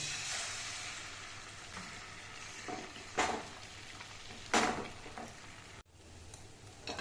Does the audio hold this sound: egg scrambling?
yes